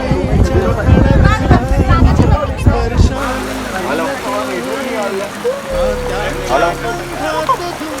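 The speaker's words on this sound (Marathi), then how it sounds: "फायनली पाऊस आलेला आहे" Steady rain patters and hisses throughout at Matheran, with people talking loudly over it in the first few seconds and a low rumble underneath.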